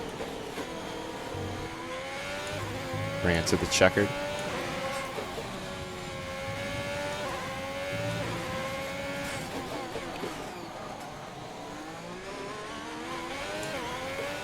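A Formula One car engine from the F1 2021 game whines continuously at high revs, rising and falling through gear changes with a brief louder burst early on, while someone talks over it.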